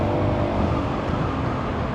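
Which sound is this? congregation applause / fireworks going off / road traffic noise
road traffic noise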